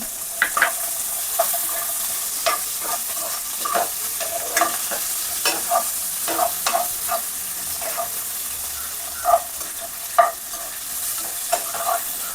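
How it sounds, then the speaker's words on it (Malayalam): Coconut, ginger, garlic and green chillies frying in a pan, stirred with repeated scraping strokes in an irregular rhythm over a steady, close sizzle, with no talking. "നന്നായിട്ട് ഇളക്കി കൊടുക്കുക."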